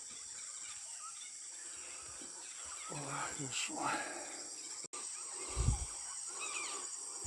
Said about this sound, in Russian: О, птицы, какой-то переполох птичий.